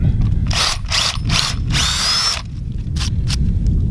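A power drill whirs loudly in several short bursts, then one longer run that bores steadily into a maple tree trunk to tap it for sap before stopping, followed by a few brief spins.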